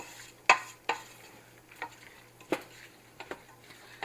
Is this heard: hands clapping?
no